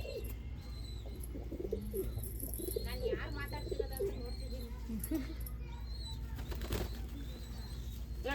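A young pigeon flaps its wings in sharp bursts and gives soft coos close by, while people talk over it.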